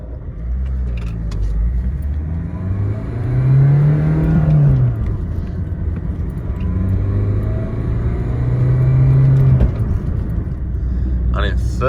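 A sluggish car losing power accelerates slowly in third gear, its engine droning low and rising gradually up close, with someone talking over it.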